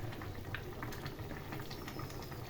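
A covered pot of Bengali fish curry with vegetables and coriander leaves bubbling over a low gas flame, a soft, steady simmering hiss with faint pops and no talking.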